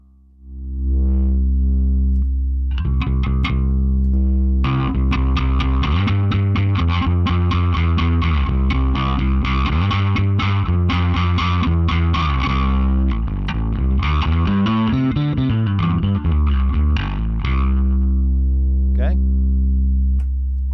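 A bass guitar plays a riff through a dark Rat distortion pedal, loud and fuzzy with sustained gritty notes and a brief pause before the line resumes.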